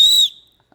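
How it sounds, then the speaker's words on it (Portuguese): A whistle gives one short, shrill, piercing blast that cuts off abruptly, followed by near silence. "E agora eu quero saber por que ele me trouxe um apito."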